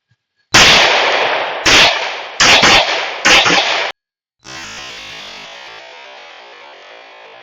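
S&W M&P pistol in 5.7x28mm firing 40-grain full metal jacket rounds in quick double taps, sharp loud cracks in close pairs, then a last shot with a long ringing decay.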